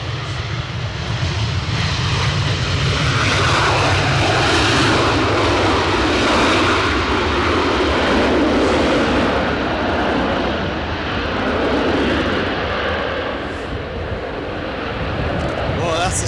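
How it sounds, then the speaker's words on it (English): A Boeing 737 operated by Malta Air lands at Edinburgh Airport on a windy day, a loud, sustained broadband jet roar swelling and lingering over about sixteen seconds amid gusting wind. "that was a Boeing 737 arrived from Dublin, operated by Malta Air."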